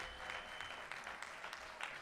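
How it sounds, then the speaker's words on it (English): An audience at a political caucus event applauds, a dense, steady patter of many clapping hands filling the whole clip at moderate loudness. "can you give a big round of applause again to Bell, the leadership?"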